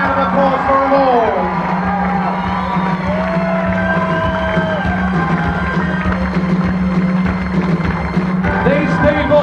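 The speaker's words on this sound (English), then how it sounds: "A big round of applause for them all." A crowd at a rock and roll show cheers and whoops in a steady, loud, dense roar, with a host's voice carrying over it and a sustained hum running underneath.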